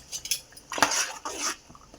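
A spoon scrapes and clinks through spice paste and green peas in a hot oiled pan, several close metallic stirring strokes with a longer scraping sweep in the middle, no talking.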